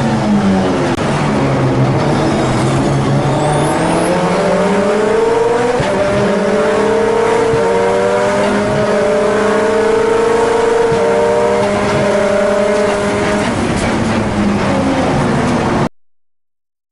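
A race car with a Kotouc sequential gearbox accelerates flat out, its engine note climbing loudly through repeated quick flat shifts without the clutch, each upshift dropping the pitch before it rises again, recorded from on board.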